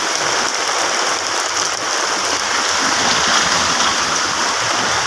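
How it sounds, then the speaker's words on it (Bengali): Heavy rain pours down in Dhaka with a loud, dense and steady hiss of water striking the ground, continuous and close, with no voices. "বৃষ্টি আর বৃষ্টি, মানে বৃষ্টি আপনার বন্ধ হইতেছে না।"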